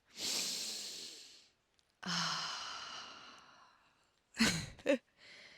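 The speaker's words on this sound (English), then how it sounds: "Take a big, deep breath." A person in a forest takes slow, deep breaths close to the mic: two long airy exhalations, then a sharp double inhale-exhale and the start of another breath.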